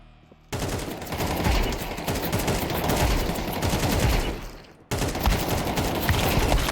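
Continuous rapid gunfire from a Counter-Strike match fills the clip, loud and dense with overlapping automatic bursts. It cuts out briefly near the end, then resumes.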